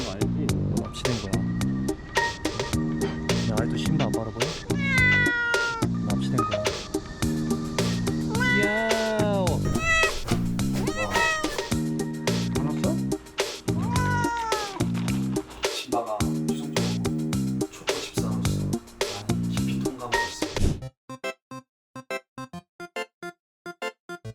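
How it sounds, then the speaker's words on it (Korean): A pet cat meowing on the way to a health checkup, heard repeatedly and close up under continuous background music, with some drawn-out, wailing cries before the music cuts to a sparse pattern near the end. "고양이를 한 마리를 기르고 있는데 저희 집 신바와 함께 건강 검진을 받으러 가는 날이에요."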